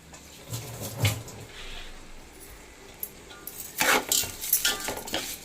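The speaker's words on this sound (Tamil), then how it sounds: "எல்லாம் போட்டு நல்லா வதக்குவோம்" Tomatoes with rock salt are sautéed in a pan for chicken biryani. A quiet start gives way to a busy run of spatula scraping and metallic clatter against the pan, close by.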